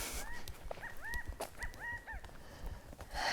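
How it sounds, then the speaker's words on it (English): Short upward-sweeping chirps repeat in quick bursts outdoors, fairly clear against a low rumbling background, several calls in a row. "I'm guessing they're birds, chirps"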